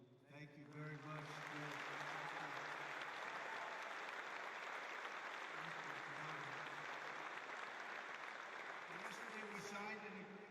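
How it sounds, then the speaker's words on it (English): Sustained applause from an audience at an event, a dense, steady wash of clapping that swells in after a brief spoken moment and continues without pause; a voice is heard briefly before and after. "we want to give a little special applause for somebody that's been so good"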